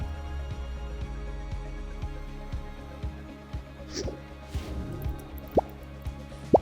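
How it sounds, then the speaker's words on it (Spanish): Oxyhydrogen gas from an electrolyzer bubbles through a silicone tube into a water-filled bottle, producing a steady series of close, distinct drips and plops with gurgling squishes as water is pushed out. "Al introducir el tubo de silicona dentro de la botella, la presión expulsa el agua, quedando solo gas en el interior."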